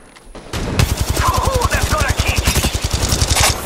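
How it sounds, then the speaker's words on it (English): Rapid automatic gunfire from Apex Legends Mobile, a steady stream of loud close shots running nearly nonstop after a brief quiet start, with game effects layered over it. "Allfather, shots fired at me."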